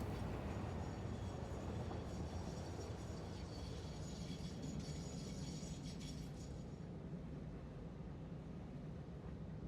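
A long train runs uphill at full speed in the factory-building video game Satisfactory, making a steady, low mechanical rumble. It stays faint and even throughout, with no talking.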